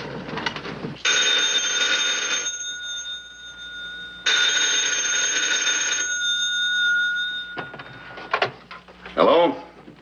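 Telephone at a highway patrol office ringing close and loud in two long bursts separated by a pause, followed by handling clatter and brief voices near the end.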